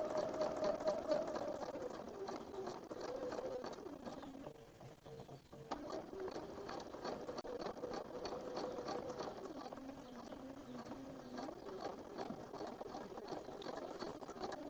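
An embroidery sewing machine stitching a Nativity tree skirt during assembly, with a quiet, steady, rapid mechanical chatter that runs throughout and dips briefly midway.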